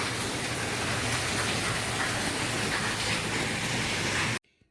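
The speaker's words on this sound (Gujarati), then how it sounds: "બહુ વરસાદ પડે છે" Heavy rain pours steadily in a dense, continuous roar, then cuts off abruptly near the end.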